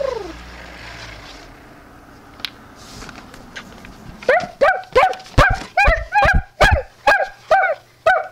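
Several dogs bark excitedly in a quick run of about ten loud, close barks, rising suddenly after a quieter stretch with a faint whine at the start.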